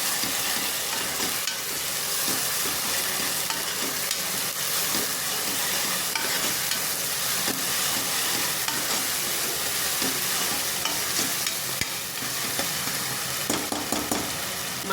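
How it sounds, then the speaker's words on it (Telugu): Masala frying in oil for spicy boti curry gives a loud, continuous sizzle that fills the whole stretch. Faint stirring scrapes run underneath it, and no one speaks. "మసాలా కొంచెం ఆయిల్లో వేగాలండి."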